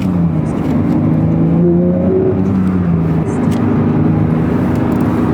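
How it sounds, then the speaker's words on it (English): A Porsche 992 GT3 engine drones loudly under light throttle in second gear, with rising and falling tones as the tires spin, a constant close rumbling roar throughout. "I just barely got on it in second gear, and it's just like instantly spinning the tires"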